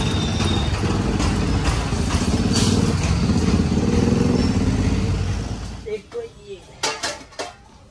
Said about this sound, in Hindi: कांसे की थालियाँ लेने आए हैं यहाँ पर।